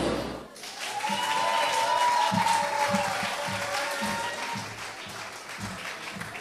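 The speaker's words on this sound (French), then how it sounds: "Vous venez d'applaudir chaque Miss séparément" Audience applause at the grand final of the Miss Haiti 2022 pageant, a dense, sustained wash of clapping from a large crowd that swells after a short opening and holds steady, with faint voices mixed in.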